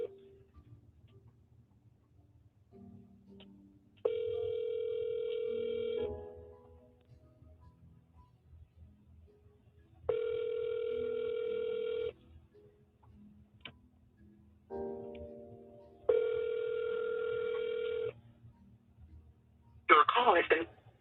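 Telephone call tones sound as a call is forwarded: a steady ringback tone repeats in three roughly two-second bursts with pauses between them, clear and close, while a voice speaks faintly in the gaps.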